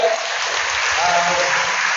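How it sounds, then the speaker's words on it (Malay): An audience at a talk gives steady, dense applause that stays loud and even throughout, with faint voices underneath. "Kita beri tepuk tangan yang hebat"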